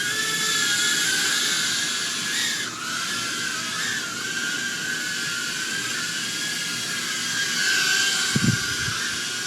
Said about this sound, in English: This is all the drone by itself. I'm just flying it.